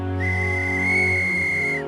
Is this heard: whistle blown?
yes